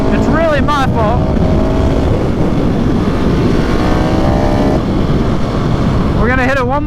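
A KTM 690 SMCR single-cylinder motorcycle revving hard while riding on back roads, loud close engine roar with rising and falling pitch sweeps at the start and end under heavy wind rush, and a steadier drone through the middle.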